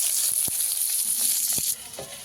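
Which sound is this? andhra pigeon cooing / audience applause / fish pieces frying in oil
fish pieces frying in oil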